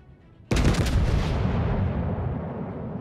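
Ship guns fire in World of Warships aboard the battleship Oklahoma: one loud, sudden salvo boom bursts in at once and then rolls into a long, dense rumbling decay that fills the rest of the moment, with no talking.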